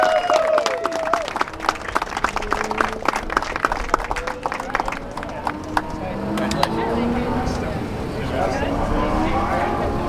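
A crowd applauds an autocross trophy winner at the SCCA Nationals with a sustained burst of clapping. It is loudest at the start, and an announcer's voice carries over it.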